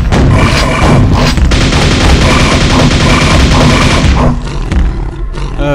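Loud, sustained weapon fire from the video game Quake erupts in a dense, roaring burst that holds for about four seconds and then tails off.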